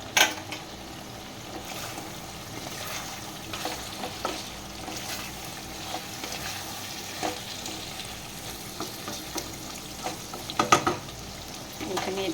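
Mutton and potatoes fry together in a pan, a steady sizzle with scraping and stirring strokes breaking through at intervals, close and moderately loud with no talking.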